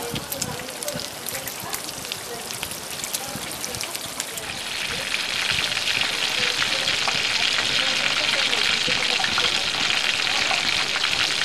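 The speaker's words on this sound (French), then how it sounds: "les premiers samoussas sont en train de cuire" Samosas frying in hot oil, a steady hiss and crackle that swells louder about halfway through and keeps sizzling densely, with voices talking underneath.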